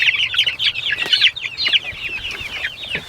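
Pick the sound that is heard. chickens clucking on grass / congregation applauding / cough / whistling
chickens clucking on grass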